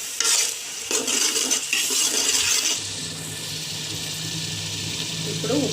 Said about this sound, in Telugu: ఇప్పుడు టమాటా పేస్ట్ వేసుకోవాలి. దీన్ని బాగా కలుపుకోవాలి.